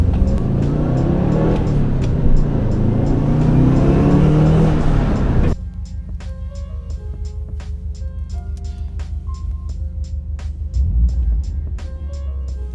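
A Subaru Impreza WRX engine revving on throttle, a loud, steady roar that rises and holds, then drops to a lower, rhythmic drone with a brief surge near the end, heard close with no talking.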